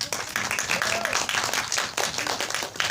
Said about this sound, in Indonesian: Selanjutnya tepuk tangan yang meriah kepada Anissa Kaila sebagai Laila.